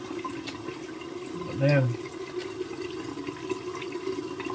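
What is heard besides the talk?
water running while rinsing face after shave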